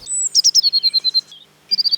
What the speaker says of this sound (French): C'est une mésange bleue.